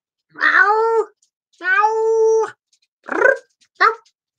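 Four close, clear cat meows ring out against silence: two long drawn-out calls followed by two shorter, clipped ones.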